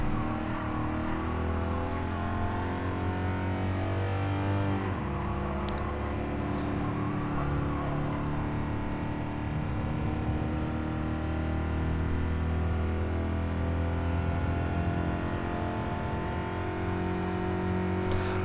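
Race car engine held at full throttle in a racing game at the Catalunya circuit, a loud, steady high-revving drone with smooth rising and falling gear pitch, continuous and without talk.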